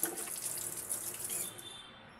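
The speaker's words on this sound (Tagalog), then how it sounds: "tapos ugasan na ng tubig" Tap water running over a soaped rubber o-ring as it is rinsed at a sink, a faint steady hiss and trickle that cuts off near the end.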